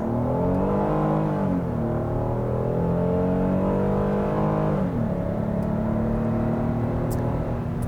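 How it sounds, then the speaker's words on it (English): A 2022 Kia Carnival SX Prestige minivan with a 290-horsepower front-wheel-drive V6 pulls away hard from a stop, its steady engine note rising through the gears with a shift near the middle, loud and close from inside the cabin. "Let's try it from a stop here real quick."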